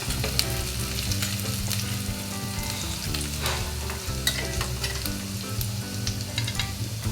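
Paneer browns in a pan for chilli paneer: a dense, even sizzle runs throughout while a utensil stirs and scrapes at irregular moments, with a low steady hum underneath.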